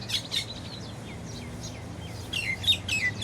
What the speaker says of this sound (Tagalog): Marami din ibon dito sa puno.